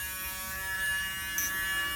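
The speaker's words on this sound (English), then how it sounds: "This is one of them wire wheels that kind of will flare out if you spin it real fast" A fast-spinning rotary wire wheel, its tip sleeved in shrink tube, cleans the tops of rivets, giving a steady, close electric motor whine and buzz with a brief brighter scrape near the end.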